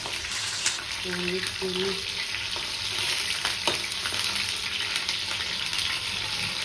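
Okra (bhindi) frying in a pan over full flame, giving a steady, dense sizzle and sputter up close, with one brief spoken word.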